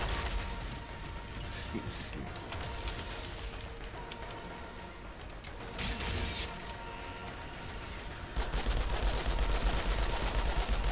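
Gunfire rattles in the Outriders video game, with dense bursts of shots mixed with other game effects running throughout and growing louder near the end.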